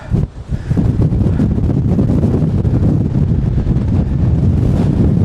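Strong gusts from Storm Floris batter the microphone on an outdoor walk, a loud, continuous low roaring rumble that never lets up.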